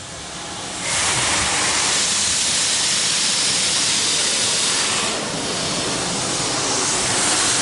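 A Washtec SoftCare automatic car wash at a Mobil station in Tokoroa sprays water over a car, a loud, close, hissing roar that swells up after a quieter start, dips briefly, then surges again.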